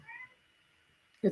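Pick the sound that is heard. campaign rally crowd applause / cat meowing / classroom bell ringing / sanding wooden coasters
cat meowing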